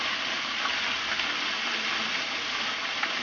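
Fish and home fries fry in a pan of oil, a steady close sizzle and crackle with no talking.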